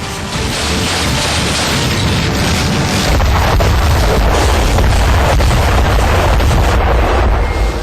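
A missile system fires rapidly into the sky, producing a dense, continuous roar of booming launches that builds louder after the first few seconds and holds close and loud throughout.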